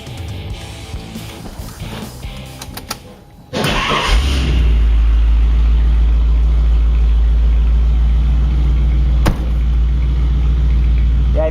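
A classic car with a real exhaust system out the back cranks over and catches around the four-second mark, then settles into a loud, steady, rumbling idle close by, with a single brief sharp tick partway through.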